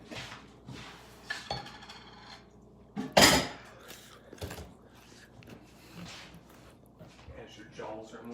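Eggs and meat stirred in a pan, intermittent scraping and clinking of a utensil against the pan with one sharp clatter midway, heard under conversation between people nearby.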